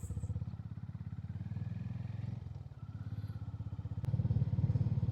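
A Honda H'ness CB350 single-cylinder motorcycle thumps at idle, dips briefly and then pulls away with a rising throb, loud and close with no talking.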